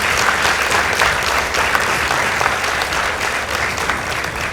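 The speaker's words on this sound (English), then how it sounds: "Please give them a round of applause." Loud, sustained applause from a school audience at a girls' high school debate competition, a thick, steady roar of many hands clapping at once, unbroken throughout.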